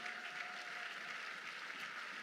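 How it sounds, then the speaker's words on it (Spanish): A church congregation applauds after a Bible reading, producing steady, even clapping that sounds distant and soft, spread evenly throughout with no voices. "Damos un aplauso a la palabra del Señor."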